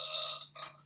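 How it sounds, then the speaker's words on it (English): Burping in the background: a short, drawn-out belch with a tonal rasp, fairly faint and distant, ending in a brief louder burst. "I don't know if you can hear the burping in the background."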